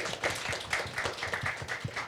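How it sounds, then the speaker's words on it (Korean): Scattered clapping from a small group, light and uneven, continuing steadily for a couple of seconds. "박수 부탁드립니다."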